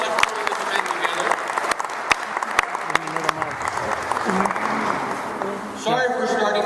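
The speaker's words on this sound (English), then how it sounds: "if you'll join me in giving Margot and her team a round of applause for putting this event together." A crowd at a Watts Neighborhood Council candidate forum gives a round of applause. The clapping is loud and sustained for several seconds, and a voice starts speaking again near the end.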